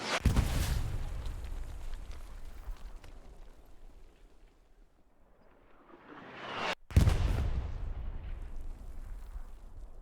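Artillery rounds impact in the video game Hell Let Loose. A heavy boom opens the scene and rolls away into a long fading rumble, then a sharp cut brings a second loud blast with a trailing roar.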